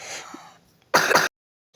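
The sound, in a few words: child coughing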